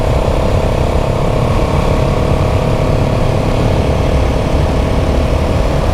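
A KTM 690 SMC R single-cylinder motorcycle engine runs hard on a mountain pass road, a loud, steady buzzing drone mixed with heavy wind roar and no pauses.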